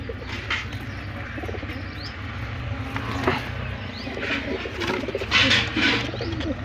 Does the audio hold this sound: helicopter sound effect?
no